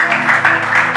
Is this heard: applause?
yes